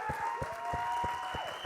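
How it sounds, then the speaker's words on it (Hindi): Audience applause at a Bollywood film trailer launch event, a short burst of steady crowd clapping with a faint tonal hum underneath. "ये तालियां बजती रहनी चाहिए"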